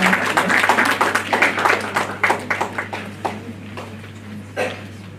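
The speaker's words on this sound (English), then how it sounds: "Ladies and gentlemen, please welcome him with a round of applause." Seminar audience applause welcoming a guest speaker at a healthcare management event; a burst of clapping that thins into scattered, separate claps and fades out, over a steady low hum in the hall.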